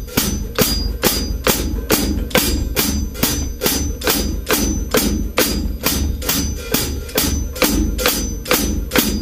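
A drum kit hi-hat is struck in a steady, fast, even pulse of bright metallic ticks, loud and close, played alone with no talking.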